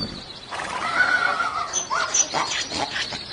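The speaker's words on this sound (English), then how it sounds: "That was just the horses and donkeys that are in the stable." Horses and donkeys in a stable give a loud, shaky whinny that rises and falls over a few seconds, with a second shorter call near the end and faint shuffling behind it.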